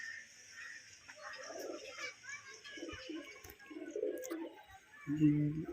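Pigeons coo softly from a little way off, including white-winged birds at a sale, while voices and children's chatter carry through the background.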